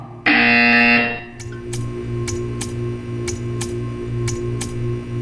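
A loud, sustained harmonic buzzer from the video game Portal 2 blares for about a second, then gives way to a steady, evenly spaced ticking over a low electronic hum.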